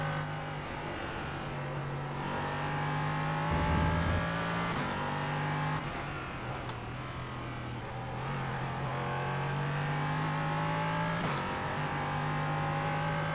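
An LMP3 prototype race car's engine drones steadily on track, heard from onboard as a sustained harmonic hum that rises and dips gently with throttle and gear changes.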